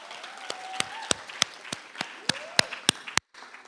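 Scattered, distinct hand claps from an audience at a poetry performance for poet Bash, about a dozen sharp claps spread unevenly over a few seconds, with faint voices underneath.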